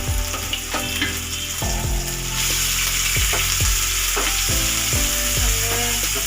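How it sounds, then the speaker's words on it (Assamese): Chopped onions, ginger and garlic sizzle loudly in hot oil, a steady dense frying hiss with repeated scrapes of a spoon stirring through the pan, close up and with no talking. "গৰম হোৱাৰ পিছত মই এতিয়া ইয়াৰ কাটি থোৱা পিঁয়াজখিনি দি দিম"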